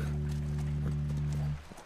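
A horse in The Last of Us video game gives a short, close, tonal snort-like call that lasts about a second and a half and then cuts off.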